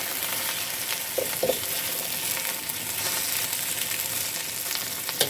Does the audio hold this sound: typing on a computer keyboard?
no